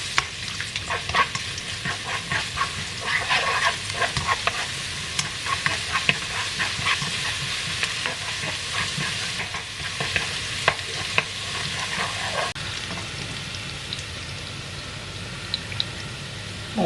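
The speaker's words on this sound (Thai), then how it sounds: "จะผัดไส้กันเลยเนาะทุกคนน้ำมันพืช" Spring roll filling stir-fried in vegetable oil in a pan, a steady loud sizzle with repeated scraping and stirring clatter throughout, no voices.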